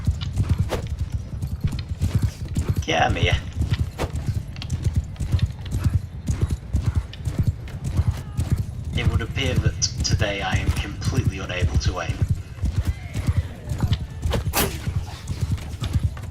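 Horse hooves clip-clop in a steady galloping rhythm during a Mount and Blade II: Bannerlord battle, with a couple of whinnies rising above the drumming hoofbeats while someone talks over the game audio throughout.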